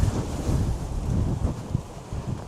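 Strong wind buffets the microphone at Copacabana beach in Australia, a loud, continuous low roar with gusty swells and no speech.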